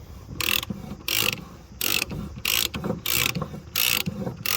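A ratchet wrench clicks in steady strokes, loosening 18mm blade bolts on a failed John Deere 1025R mower deck, with about seven close bursts of ratcheting separated by brief pauses.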